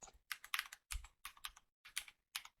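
Someone types a command on a computer keyboard at a Windows command prompt, producing close, crisp bursts of keystrokes in quick clusters separated by short pauses.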